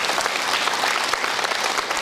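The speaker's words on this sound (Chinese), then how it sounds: "各位，这就是家庭，鼓掌一下" An audience at a lecture claps together, a dense, continuous wash of many hands applauding at close range, steady and loud throughout with no voices on top.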